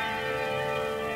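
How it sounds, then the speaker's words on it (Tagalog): Church bells ring together from a tower holding many bells, a dense steady wash of overlapping metallic tones with no talking. "malinaw na malinaw yung tigli-5 kampana na magkakasunod"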